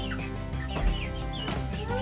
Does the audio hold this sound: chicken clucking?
yes